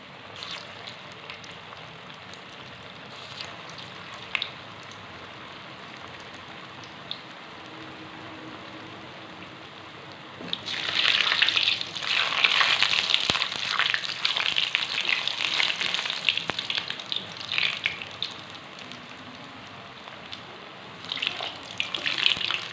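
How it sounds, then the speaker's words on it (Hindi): Chana dal koftas drop into hot ghee in a kadai; after a quieter stretch, a loud, dense crackling sizzle bursts up about halfway through and keeps going, close and steady. "अब हम कोफ्ते डाल रहे हैं इसमें और इनको अच्छी तरह फ्राई करेंगे"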